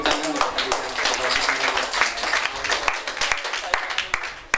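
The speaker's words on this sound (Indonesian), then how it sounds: "Tepuk tangan untuk kandidat" Audience applause for a candidate for student council (OSIS) chair at a school, dense clapping from a crowd throughout, with voices talking over it.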